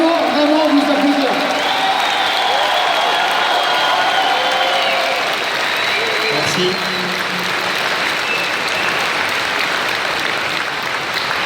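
Dense, sustained audience applause fills a live drawing battle between two manga artists, with scattered cheers and a voice speaking over the steady clapping.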